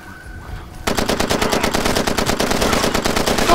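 Rapid automatic gunfire from Far Cry 2, a loud, dense burst of rattling shots that starts abruptly after a quiet moment and keeps going to the end.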